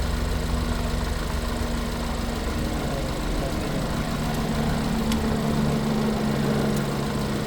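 Car engine idling steadily, a constant low hum with a droning tone, running evenly and fairly close with no voices.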